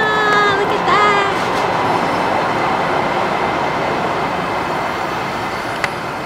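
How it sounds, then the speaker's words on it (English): A train passes on a railway near a friend's house, a loud steady rumble and rush of rail noise with brief squeals at the start, close by and continuous throughout. "The train is coming."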